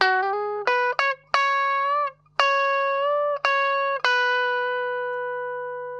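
Rockabilly electric guitar lick played with string bending, clean plucked notes that glide upward in pitch over a steady rhythmic phrase, close-miked and without any speech.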